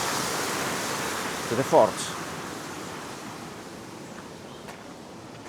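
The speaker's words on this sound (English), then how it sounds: "There's a little waterfall going down." Small waterfall on a river beside the path to an ancient stone fort, a steady broad rushing wash of falling water running throughout at moderate level, with a brief voice speaking near the middle.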